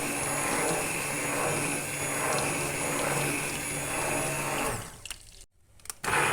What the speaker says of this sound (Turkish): Evet biraz daha çırpıyorum ve yavaş yavaş erittiğim yağımı ilave ediyorum.